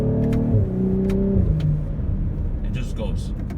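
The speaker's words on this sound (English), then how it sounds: "So I'm gonna flick the paddle shift hard, and you will hear the engine shift." A 2019 BMW X5 40i engine in Sport Plus mode revs and drops pitch as the paddle shifter changes gears, heard from inside the cabin while someone talks over it.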